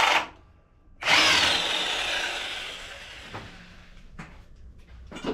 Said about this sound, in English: I got my big 1/2-inch drive electric impact.